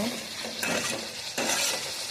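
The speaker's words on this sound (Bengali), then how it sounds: "আমি আলুগুলি দিয়ে দেবো মশলার মধ্যে। এবার আমি মশলাটাকে ভালো করে কষিয়ে নেব।" Fried potatoes are stirred into a spice masala frying in a pan, a dense sizzle broken by two loud bursts of scraping and stirring.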